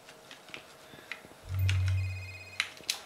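A phone in a Christmas horror video game gives a repeating electronic ring, a few steady tonal pulses at moderate level over a low droning background, with small clicks and taps around it.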